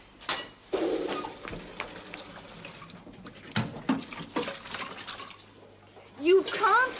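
Tap water running into a kettle in a 1970s television play, a splashing, gurgling stream in bursts under people talking.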